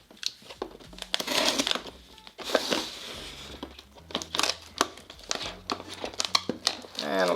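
Packing tape being peeled and crinkled off a cardboard box during an unboxing, a run of sharp ripping and crumpling bursts close up, with a voice talking between them.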